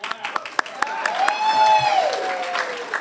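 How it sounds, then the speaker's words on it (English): Kiwanis club members at a meeting break into scattered clapping, a light patter of hand claps with a voice talking over them throughout. "Go ahead and clap."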